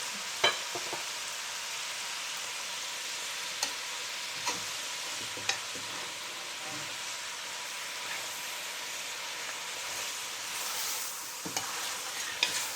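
Bacon and drained vegetables frying in a pot for German sauerbraten, a continuous bright sizzle with occasional sharp utensil clicks and taps, fairly steady and close.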